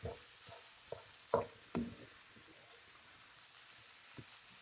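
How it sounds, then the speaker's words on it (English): Ground turkey browns in a pan over a raised flame for tacos: a quiet, steady sizzle runs throughout, broken by a few sharp utensil scrapes and clacks as the meat is stirred, with no speech. "Now we want to brown our turkey. So we're going to cook it until it gets brown."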